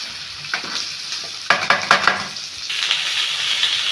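Kofta fries in a pan with garlic, sizzling steadily up close while a utensil stirs and scrapes in a short burst of clinks partway through.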